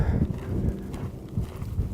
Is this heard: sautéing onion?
no